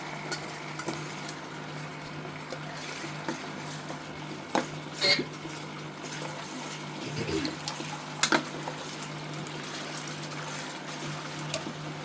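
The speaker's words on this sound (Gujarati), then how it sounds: "પાણી નાખ દો" Quiet kitchen sounds with water trickling into a cooking pan of potato curry and a few clinks of a utensil against the pan, steady and close, without talk.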